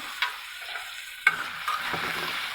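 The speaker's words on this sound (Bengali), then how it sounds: "রসুন কুচি আর গোলমরিচ, দারচিনি, এলাচি নেড়ে দিচ্ছি" Chopped garlic, black pepper, cinnamon and cardamom are stirred in hot oil, a steady close sizzle with a sharp scrape of the spatula partway through and further scraping clinks after.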